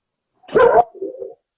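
A dog gives one short, close bark followed by a softer, lower whining grumble, together lasting about a second against silence.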